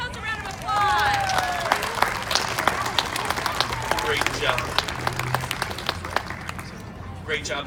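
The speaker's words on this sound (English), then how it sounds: "Give yourselves a round of applause." Children and teachers at a 9-1-1 for Kids awards ceremony clap and cheer, a steady indoor patter of applause with high excited voices rising over it, continuing throughout.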